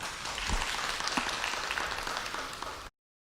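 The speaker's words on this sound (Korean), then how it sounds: "박형주 총장님을 따뜻한 박수로 맞이해 주시면 감사하겠습니다." An audience at an education forum lecture greets the speaker with warm applause, dense steady clapping for about three seconds that then cuts off abruptly.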